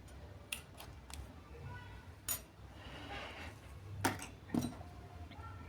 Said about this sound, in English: And now we need to cut off the green yarn.